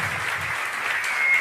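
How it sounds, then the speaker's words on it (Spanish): Dense applause from a conference audience at an employment congress in the Canary Islands, a smooth continuous wash of many hands clapping, steady and full with no distinct individual claps or talking. "yo creo que otro aplauso, ¿no?, para Almudena"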